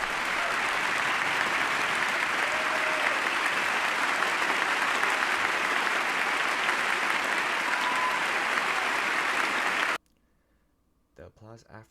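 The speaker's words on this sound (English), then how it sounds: "The applause after mentioning Lisa was an important moment" A large audience applauds as the President introduces Lisa Beamer, wife of Todd Beamer. Dense, sustained clapping fills about ten seconds, then stops abruptly, and brief speech follows.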